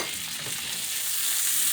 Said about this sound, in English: That's going to sizzle.